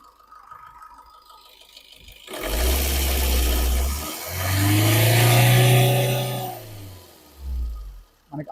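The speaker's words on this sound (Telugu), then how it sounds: "చాలా నీట్ అండ్ సైలెంట్గా ఉంది ఇంజన్" Maruti Baleno Delta 2016/17 diesel car engine idling and then revving up loudly, with a strong low rumble that rises, holds for a couple of seconds and settles back down, close to the microphone.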